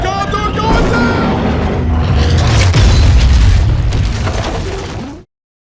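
A Condor aircraft crashes and explodes in Gears of War: a sustained, loud rumbling boom with a sharper burst near the middle, rolling on for several seconds before cutting off abruptly.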